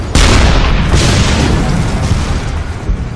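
A loud, heavy boom erupts in a WW2 tank battle as a shell strikes a tank. It is followed by a dense, rumbling roar that stays loud and slowly fades over a few seconds.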